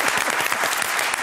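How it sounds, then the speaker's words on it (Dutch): A studio audience applauds Johan Derksen on a Dutch talk show, a dense, steady wash of many hands clapping close and loud throughout, with no pauses. "Applaus voor Johan Derksen"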